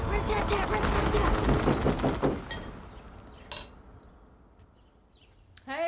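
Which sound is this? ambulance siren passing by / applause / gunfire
gunfire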